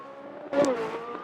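A second-generation F1 race car at Jacarepagua in Automobilista 2 holds a faint, steady engine drone with a brief louder swell partway through.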